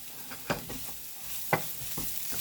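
Taco-spiced pork being stirred in a pan, with two sharper utensil knocks over a quiet background sizzle and soft scraping movements.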